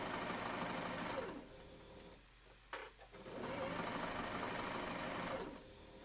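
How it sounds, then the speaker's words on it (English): A home sewing machine that is misbehaving runs in two steady whirring bursts, stopping briefly in the middle with a small clunk before starting again, close and fairly quiet. "I need somebody to look at my sewing machine, I think, because it's not behaving properly"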